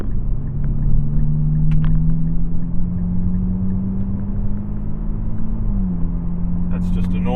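A car with an axle-back exhaust and a throttle controller accelerates normally, its steady engine rumble droning on at close range with a slight shift in pitch near the end, and no talk over it.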